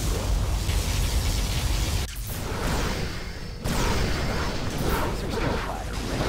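Particle cannon superweapon firing in the real-time strategy game Command & Conquer Generals, a loud sustained roaring blast with a brief drop midway, then the heavy rumble surging back as explosions continue.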